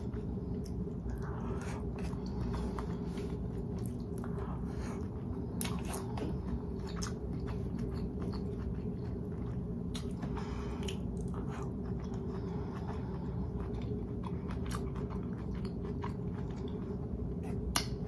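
Someone chews veggie potstickers from Kroger up close, producing soft, repeated wet bites and squishy chewing sounds over a low steady background hum.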